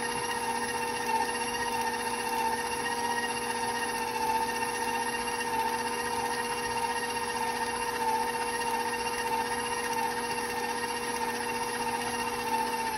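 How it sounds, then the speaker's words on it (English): An electric stand mixer runs steadily at higher speed while beating M&M cookie dough, a continuous even whirring hum with a faint high whine, holding level throughout with no talking. "I'm going to speed my mixer up a little bit more so air can enter and it can become light and fluffy"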